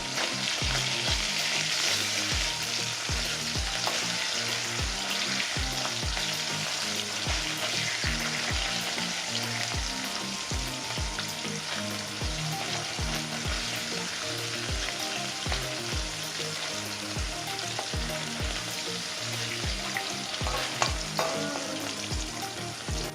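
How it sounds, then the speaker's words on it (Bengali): Paneer cubes frying in oil while being turned over, a steady close sizzle with regular soft scraping strokes throughout, no talk. "পনিরগুলোকে একটু উল্টে পাল্টে ভেজে নেব।"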